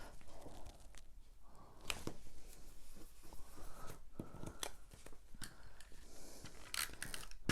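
Tape goes onto a paper craft card for a Christmas punch box, heard as close, irregular rustles, crinkles and short sharp tearing bursts.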